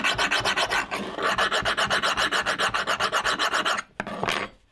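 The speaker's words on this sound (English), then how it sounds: "You can hear the files just skipping right over it." A hand file skating over hardened O1 tool steel without cutting, giving a rapid, rhythmic rasp of about thirty close strokes, then a brief pause and a final scrape.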